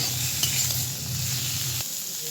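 Turnip, potato and peas fry in a pan with a soft, steady sizzle and a low bubbling rumble, briefly stirred, then the low bubbling drops out near the end, leaving a quieter hiss with no talking.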